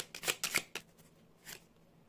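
Tarot cards being shuffled and a card drawn during a reading, with a few quick crisp riffling bursts and soft flicks, close and fairly quiet, with no talk.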